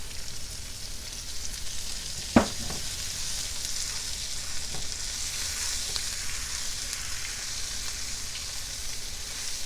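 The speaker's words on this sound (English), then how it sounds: "I'm just giving that a good stir" Jambalaya frying in olive oil in a pan, a steady hiss of sizzling with a single clunk of the spoon early on and faint stirring scrapes underneath.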